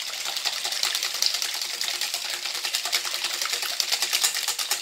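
Eggs and sugar are whisked by hand in a bowl for a clafoutis, the whisk making a fast, steady scraping and clicking rhythm that is close and continuous, with no voice.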